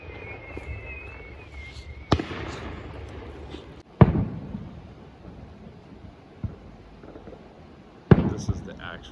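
Distant Fourth of July fireworks set off by locals in Salmon, heard from a Montana fire lookout: a few sharp booms and cracks spaced seconds apart, echoing in quiet night air with faint background sound.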